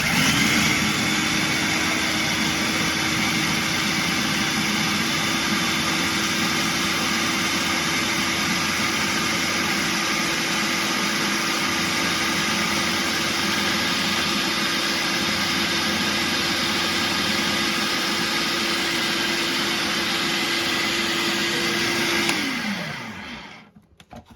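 A blender on high whirs loud and steady through sage leaves and salt for over twenty seconds, a constant motor drone that spins down and stops at the end.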